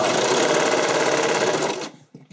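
A sewing machine stitches elastic into a garment armhole, running in one loud, steady continuous burst close by that cuts off abruptly near the end, leaving a few faint handling sounds.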